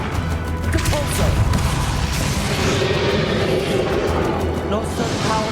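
A Compulso spell impact from the Hogwarts Legacy video game lands as a booming blast within dense, continuous game noise, with a voice speaking over it.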